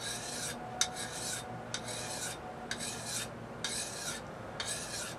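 A knife blade stroked across a sharpening stone in steady, even rasping passes, about six strokes with brief pauses between them, close and clear with no talking.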